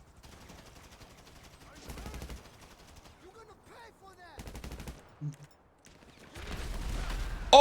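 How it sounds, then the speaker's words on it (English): Gunfire in the video game GTA Online crackles in bursts across the clip, broad wideband volleys that sit under and between voices talking, with louder rapid-fire shooting building near the end. "They're shooting."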